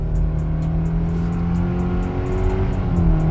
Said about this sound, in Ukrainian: Зараз спробуємо з вами розгін від нуля до сотні